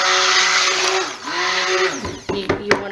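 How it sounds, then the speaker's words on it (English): A stick blender whirring through melted cold-process soap base, a loud motor whine that dips and rises in pitch as it works and then breaks into short uneven bursts near the end. "I'm just going to stick blend it a little bit just to make sure."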